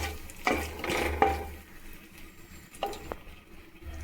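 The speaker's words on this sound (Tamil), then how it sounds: "கடுகு போடுறேன். கடுகு பொரியட்டும்." Mustard seeds, bay leaf, star anise, cardamom and a piece of cinnamon sizzle faintly in hot oil for mint rice, with a soft frying hiss and a few scattered pops and stirring clinks.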